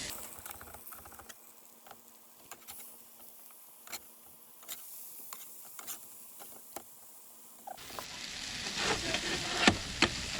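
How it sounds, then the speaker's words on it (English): Burgers, including fake plant-based patties, cook on an outdoor campfire grill beside an RV, with a soft, steady sizzle, scattered pops and occasional utensil clicks; the frying swells louder and hissier toward the end. "Flip the burgers again."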